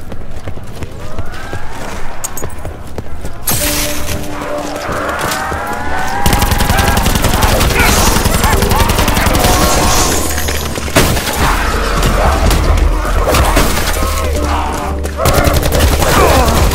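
Rapid bursts of automatic gunfire from Black Ops 4 Zombies pack-a-punch play crackle steadily over dense game music and effects, loud and continuous with brief lulls.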